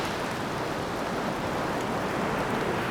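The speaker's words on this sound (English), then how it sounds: "we get rain like this, and it's really raining hard now." Heavy monsoon rain pours down on the Kerala coast near Kannur, a dense, steady, unbroken hiss that stays loud and even throughout, with no voices.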